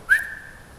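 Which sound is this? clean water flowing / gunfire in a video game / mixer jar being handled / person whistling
person whistling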